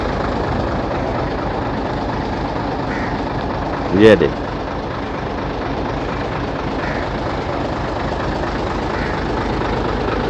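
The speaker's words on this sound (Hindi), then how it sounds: "और साउंड भी आप सुन रहे हैं, यही गाड़ी स्टार्ट खड़ी है इस वक्त।" A Hino 10-wheeler diesel dump truck sits idling nearby with a steady low rumble throughout, while a voice briefly speaks over it midway.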